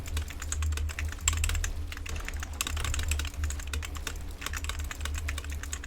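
Continuous fast keystrokes clatter on an inexpensive wired computer keyboard, close and moderately loud, with a faint low electrical hum underneath.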